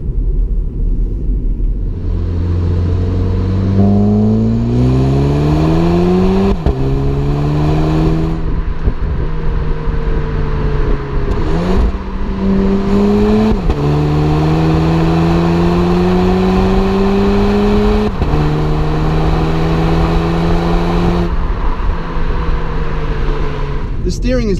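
A car engine runs loud and close, revving up through the gears in repeated rising sweeps, each climb cut by a short drop at the shift, with a deep rumble throughout and a voice talking over it.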